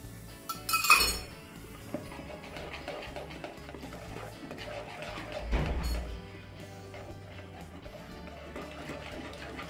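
A spoon stirs Eno and a spoonful of water into dhokla batter in a bowl, giving soft scraping and light clinks against the dish, with one louder knock near the start and another midway.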